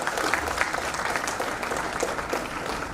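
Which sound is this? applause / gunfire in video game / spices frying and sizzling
applause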